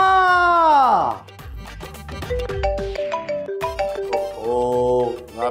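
A mobile phone ringtone in a comedy sitcom scene, a melodic electronic tune playing at moderate loudness, with music in the background.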